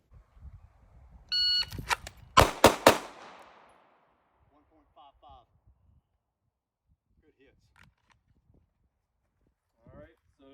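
Three sharp Glock 19 pistol shots fired from 5 yards ring out in quick succession, preceded by a short beep, then faint footsteps and handling noises in near silence.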